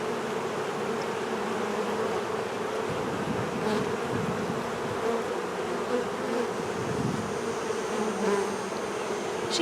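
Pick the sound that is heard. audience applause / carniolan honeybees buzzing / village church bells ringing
carniolan honeybees buzzing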